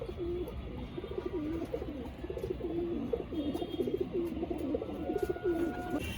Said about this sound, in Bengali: সব পায়রা ছাড়ছে